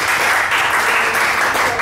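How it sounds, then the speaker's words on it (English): A seated audience gives a speaker a round of applause at a sustainability leadership event, with a dense, loud, steady wash of clapping that lasts the whole moment. "A big round of applause for Alex."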